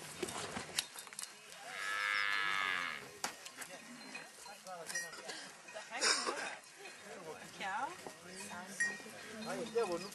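A cow lets out one long, full moo, and there are other animal calls and people talking nearby on a livestock farm in Buuhoodle.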